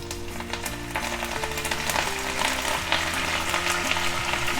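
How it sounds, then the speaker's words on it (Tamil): Curry leaves hit garlic frying in hot oil, a loud continuous sizzle and crackle close up, under steady background music. "பூண்டு கொஞ்சம் வதங்கிட்டோம் நல்லா. கருவேப்பிலை போட்டுக்கலாம்."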